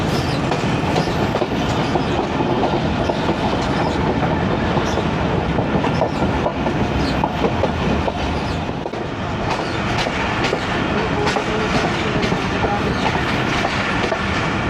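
The 14DN Awam Express rolls steadily along the rails approaching Gujar Khan, a continuous loud rumble with rhythmic clickety-clack of wheels over joints, heard close from an open carriage window with no talking.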